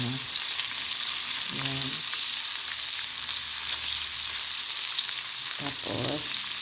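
Onions fry in hot oil with a continuous loud sizzle that stays steady throughout, along with a few brief spoken words and occasional faint clinks.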